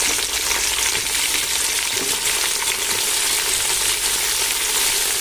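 Large-cut tomatoes fry in oil in a big pot for chicken dum biryani, making a loud, steady, close sizzle with stirring scrapes and no talking.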